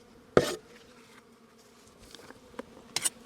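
Honey bees buzz faintly in brief, scattered bursts around the back of a hive, with quiet pauses between passes and one sharper burst near the start.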